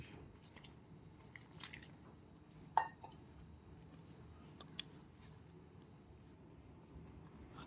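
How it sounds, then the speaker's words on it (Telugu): Flour dough mixed with chili powder and salt is kneaded by hand with added water for sarva pindi roti, giving soft, scattered squishes and small wet clicks, quiet and close with no talking. "ఇప్పుడు నీళ్ళు పోసి మంచిగా పిండి పిసుకుందాం"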